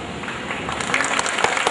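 Audience at a modern laboratory inauguration clapping in a short, dense burst of applause that swells slightly toward the end.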